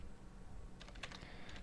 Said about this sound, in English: Typing's not my strong point.